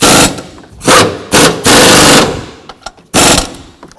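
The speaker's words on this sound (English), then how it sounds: "And tighten the bolts down." Ratchet or impact-style tightening of bolts on an engine mount of a 2009-17 Chevy Traverse during water pump replacement, several loud bursts of mechanical rattling separated by short pauses and small clicks.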